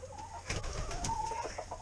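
Chickens cluck and murmur close by in a short burst of soft overlapping calls and low throaty notes.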